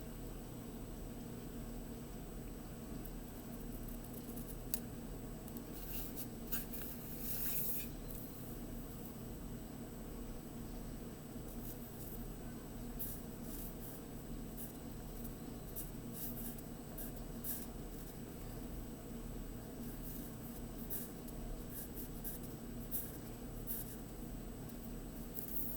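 A pen or pencil scratches steadily across paper while category names are written onto a hand-drawn pictograph of rock types, faint and close against a constant background hiss.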